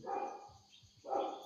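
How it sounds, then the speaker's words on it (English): A dog barks a few times in the background indoors, short and faint under a low hum, with no talking. "sorry about the dog in the background"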